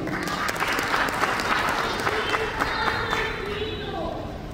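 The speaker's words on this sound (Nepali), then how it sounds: "उहाँहरूलाई हामी जोरदार ताली हामी मण्डली हामी स्वागत गरौँ।" A church congregation claps steadily to welcome guests during a service, a dense, unbroken patter of many hands that holds at an even level from start to finish.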